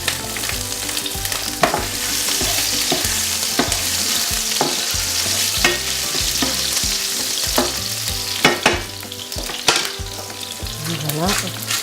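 Small grenaille potatoes with thyme sizzling steadily and loudly in a pan, with occasional stirring clatter over the continuous frying hiss.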